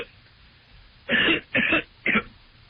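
Three short, harsh coughs in quick succession against a quiet background, the last one briefer than the first two.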